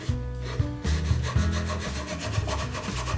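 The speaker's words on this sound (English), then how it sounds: "This little hand wire brush, especially with the fine wires that it's got," Close, scratchy back-and-forth scrubbing of a fine hand wire brush against the metal threads of a Millers Falls No. 35 auger bit extension, in quick repeated strokes with no voices.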